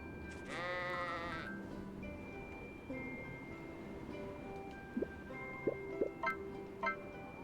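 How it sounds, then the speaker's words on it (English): A single sheep in the Harvest Moon farming game lets out one loud, drawn-out bleat near the start, then soft ambient game sounds with a few light chiming blips follow. "We're getting close on taming the sheep though"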